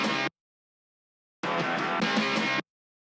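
A sampled guitar part from a song's chorus, distorted and bright: a brief hit, a pause, then a longer burst of chopped, rhythmic chords, loud and with no talking.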